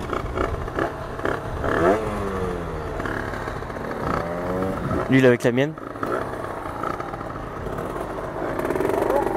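A Doppler Vortex motorcycle engine revs and climbs in pitch as it accelerates, fairly close and steady, while someone talks over it.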